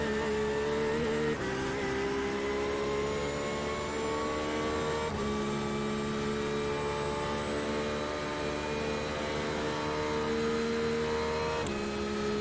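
A race car engine holds a steady high drone down a straight at Watkins Glen in an IMSA sim race. It stays loud and continuous, with brief gear-shift dips and no voices.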